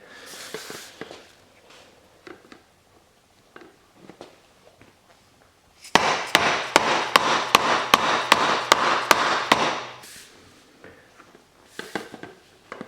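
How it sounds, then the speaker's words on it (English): A sand-filled dead blow hammer strikes repeatedly to seat a seal in a Suzuki SV1000S motorcycle fork, about a dozen loud, close, evenly spaced thuds in a rapid burst, with lighter taps and handling noises before and after. "gotta whack on it pretty hard to get it to seat. And I'm just using a standard dead blow that has a little bit of sand in the head"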